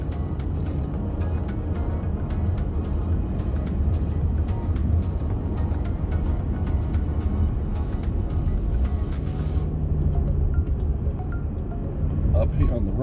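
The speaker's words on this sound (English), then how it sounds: "Anyway, we're just gonna drive, look at the traffic." A car drives through town traffic in Ansbach, Germany, its steady road and engine rumble continuous and close, with someone talking over it throughout.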